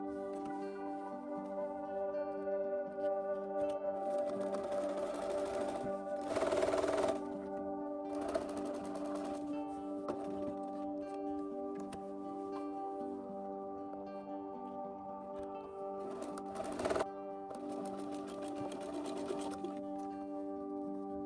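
A sewing machine stitches closed the side seam of a garment with pockets, a steady mechanical hum running continuously with a few brief louder bursts, no talking.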